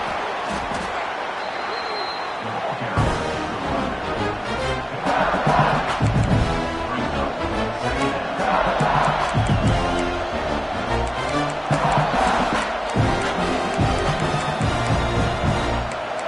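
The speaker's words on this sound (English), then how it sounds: "And the crowd coming to life here, trying to help this defense down in the red zone." A stadium crowd in an American football video game roars and cheers as the defense holds in the red zone, a dense swelling noise that rises in waves under a commentator's continuous play-by-play.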